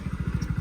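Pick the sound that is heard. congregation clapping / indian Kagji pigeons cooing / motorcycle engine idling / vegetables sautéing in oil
motorcycle engine idling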